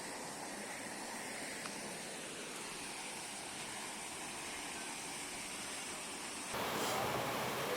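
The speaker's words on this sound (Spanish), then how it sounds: "finalmente llegamos a la cascada de San Juan" San Juan waterfall roars as a constant broad rush of falling water that swells louder near the end, with no voices heard.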